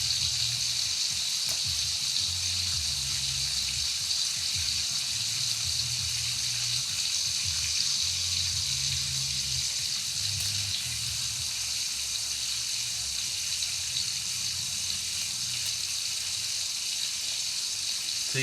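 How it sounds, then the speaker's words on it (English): Bacon cooking on a home stovetop, giving a loud, steady frying hiss and crackle that runs throughout with no pauses and no talk. "And the same process repeats as we did cooking this bacon."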